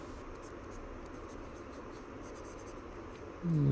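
Pen or marker writing an equation during a physics lesson, a soft continuous scratching close by under a low background hiss, followed by a louder sound at the very end.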